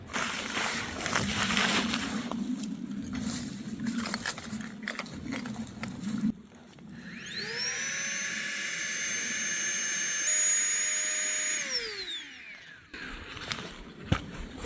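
Air rushing out of a sleeping pad valve at a winter camp, a steady hissing whoosh lasting several seconds that rises, holds, then falls away, preceded by rustling and handling noise, with no talk.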